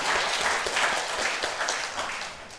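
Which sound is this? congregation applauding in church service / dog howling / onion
congregation applauding in church service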